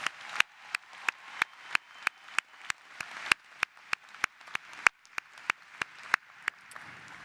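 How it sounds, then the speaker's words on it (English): Applause at a May 2024 law school commencement for attorney Ben Crump, with a steady run of sharp, evenly spaced claps from one nearby clapper over a softer wash of audience clapping. "So let's give Ben another round of applause"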